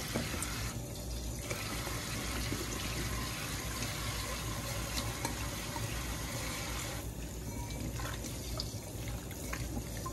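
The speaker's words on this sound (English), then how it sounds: "This water's getting nice and warm." Warm tap water runs steadily into a kitchen sink, a continuous close splashing hiss that holds without pause for the whole stretch.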